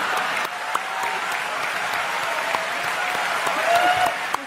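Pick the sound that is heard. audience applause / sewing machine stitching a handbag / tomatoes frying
audience applause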